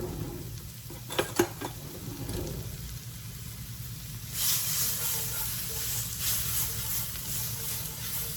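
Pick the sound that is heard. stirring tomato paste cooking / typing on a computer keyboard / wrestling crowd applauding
stirring tomato paste cooking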